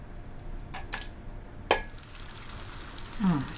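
Tofu sizzles steadily in a hot pan, with a sharp metallic clink of a utensil partway through, close by and fairly quiet.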